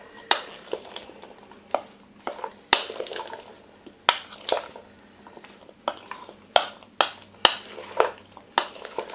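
Greek pasta salad with chopped onions is tossed in a bowl, giving a series of sharp, separate wet clacks and scrapes every second or so, close and without voices.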